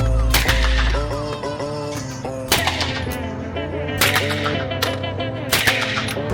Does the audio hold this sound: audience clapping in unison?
no